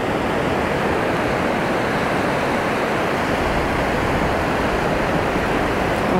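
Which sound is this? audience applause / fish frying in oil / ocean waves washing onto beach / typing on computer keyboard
ocean waves washing onto beach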